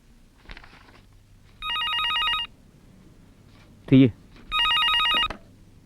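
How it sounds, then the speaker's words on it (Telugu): A telephone rings in two loud electronic bursts, with a brief sharp knock between them and a quiet room hum underneath. "మన సత్య ఫోన్ చేశాడు."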